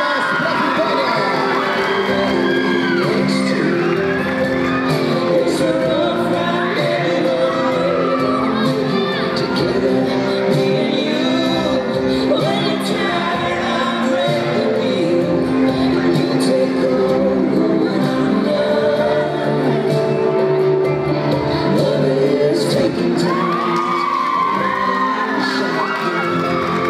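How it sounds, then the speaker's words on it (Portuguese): At a Miss Kids children's pageant in Jandaia do Sul, Paraná, an audience cheers loudly and continuously for a young contestant, with children's shouts, whoops and excited voices mixing into a lively, unbroken din. "Palmas pra Vitória!"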